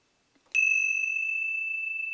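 A chime is struck once inside an anechoic chamber. A sharp, shrill metallic tone rings out and holds steadily with no echo, loud and close.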